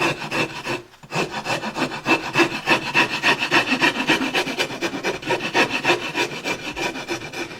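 Steady rhythmic rasping strokes of a half-round rasp filing balsa wood, close up and continuous, with a brief pause near the start.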